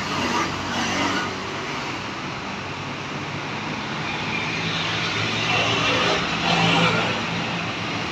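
Heavy road traffic with trucks passing, a continuous loud engine roar and broadband rumble that swells and fades as vehicles go by.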